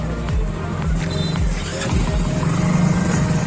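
A vehicle rolls slowly into a parking area at Millat College in Darbhanga, its engine humming close by with repeated low thumps, and no talking over it.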